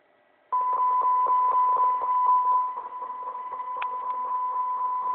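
A Motorola Syntor X9000 lowband radio set for the 10 and 6 meter bands receives a test signal, giving a steady near tone with a faint buzzy hiss and soft periodic ticks that runs without a break to the end.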